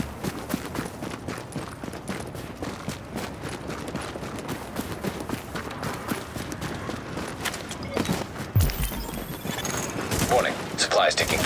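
A firefight in The Division, with rapid gunshots crackling steadily throughout and a louder burst of fire near the end.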